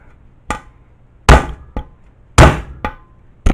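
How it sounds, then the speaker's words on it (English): A hammer strikes metal on the fuel tank of a 1955 Puch Allstate 250 motorcycle, giving five or six sharp, close clangs at an uneven pace, with quiet pauses between the blows. "I think I need a smaller hammer."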